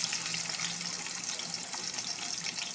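Cut onions frying in hot oil for a chicken liver curry, a steady soft hiss and crackle that stays faint and even throughout with no talk.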